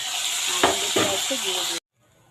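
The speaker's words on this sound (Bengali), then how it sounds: "মাছ ভাজা হয়ে গেছে এবার কাঁকুড়ি ভাজা হবে" Spiny gourd pieces frying in oil in a pan give a bright, continuous sizzling hiss with a voice talking faintly over it, then the sound cuts off abruptly to near silence.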